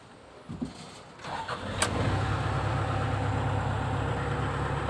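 A Komatsu PC130 excavator engine cranks briefly, then catches and settles into a steady, rumbling diesel idle, close and continuous.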